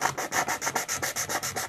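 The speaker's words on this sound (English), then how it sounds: "So I'm just going to use 120 sandpaper," Wood on an antique rocking chair being sanded by hand with 120-grit sandpaper: quick, even back-and-forth rasping strokes, about a dozen in steady rhythm, close and clear with no talk.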